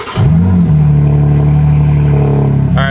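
A BMW G80 M3 or G82 M4 engine cold-starts with a loud burst that settles into a high, steady, droning idle, heard up close and alone. A brief clatter follows at the end.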